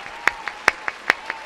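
A few isolated hand claps at a Hindi poetry recital, a kavi sammelan, six sharp separate claps spaced unevenly over a second and a half, close and distinct against a quiet room.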